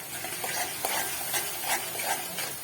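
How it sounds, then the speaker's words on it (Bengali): Spiced masala of ground coriander, cumin and a little sugar being stirred and fried in oil in a pan for dhokar dalna, a steady close sizzle with repeated scraping strokes of the spoon throughout. "কষিয়ে যাবো যতক্ষণ না তেলটা বেরিয়ে যায়।"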